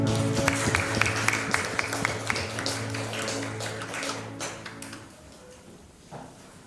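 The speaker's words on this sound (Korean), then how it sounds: "영광의 박수를 드리겠습니다." A church congregation applauds during a Sunday worship service, a steady patter of hand claps over sustained music, fading toward the end.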